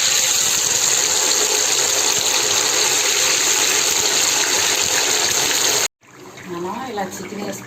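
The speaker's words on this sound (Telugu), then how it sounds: "ఇలా చికెన్ వేసుకొని ఈ చికెన్ని వేయించుకోవాలి బాగా" Chicken pieces for Chicken 65 fry in hot oil in a kadai on a home stove. A loud, dense, continuous sizzle runs for about six seconds and then cuts to quieter kitchen sounds.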